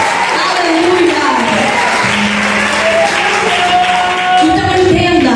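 A church congregation at a women's service claps and cheers loudly for several seconds, a dense wall of applause mixed with shouting voices.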